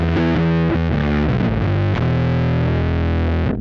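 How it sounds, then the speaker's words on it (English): Bass guitar played through a fuzz distortion pedal, routed via an iPad music setup: a few plucked notes with a thick, buzzing sustained tone that rings loudly before cutting off abruptly at the end. "Now let's add some distortion. I think the fuzz pedal will be great."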